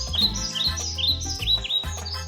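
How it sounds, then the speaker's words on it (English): Birds chirp and tweet outside in quick, bright bursts of song, repeating several times in close succession against faint background sound. "The birds are singing"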